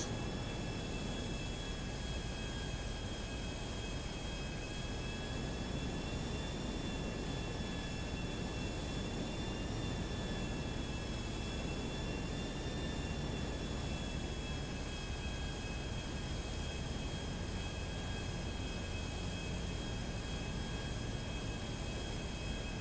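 Jet aircraft engine in GTA V, a continuous steady roar with sustained whining tones, loud and unchanging throughout, with no talking.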